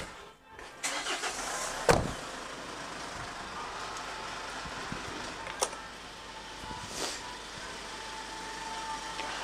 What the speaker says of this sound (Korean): 시동 한번 걸어보세요